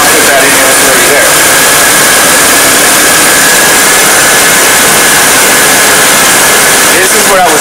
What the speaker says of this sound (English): The AC clutch is spinning. The compressor is spinning.